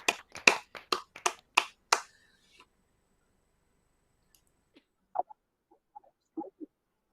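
Over an online video call, a quick burst of seven or eight sharp, close claps from a graduate comes first, then near silence broken by a few faint clicks and muffled sounds.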